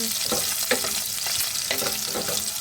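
Chicken sautéing in oil in a pan for Filipino-style sopas, a steady close sizzle with stirring scrapes and spatula clatter running throughout, no voices.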